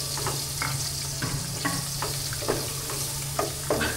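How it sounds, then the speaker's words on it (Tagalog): Garlic, ginger and onion sauté in hot oil with a loud, continuous sizzle, broken by periodic scraping strokes of a utensil stirring the pan. "Nasutay na po natin yung ating mga ricado o nagisa na."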